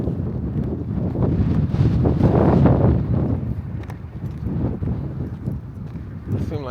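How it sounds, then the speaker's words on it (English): Gusty outdoor wind buffets the microphone at an auto auction lot, making a steady low rumble that swells and eases over several seconds. "It's windy today, man."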